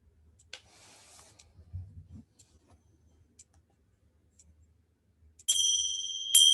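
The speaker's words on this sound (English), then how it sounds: "And so we end with that clear sound of the bell." A bell rung to close yoga relaxation, a clear bright ring arriving near the end after quiet, faint ticking sounds, sustaining loudly with a second strike.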